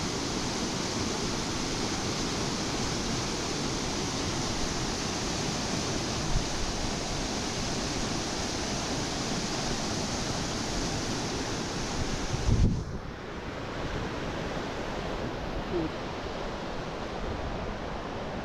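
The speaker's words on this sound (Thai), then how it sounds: "เสียงน้ำไหล" A forest stream flows in a steady, full rush of water, loud and continuous, with a brief bump and a slight drop in the sound partway through.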